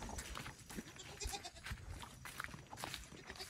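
Goats bleating repeatedly on a rural Vietnamese homestead, several overlapping calls near and at middle distance over steady outdoor background noise.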